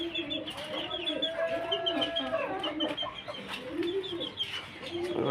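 Chickens and a rooster cluck steadily in a backyard poultry flock, several birds overlapping in a busy, close chorus that continues throughout with no talking.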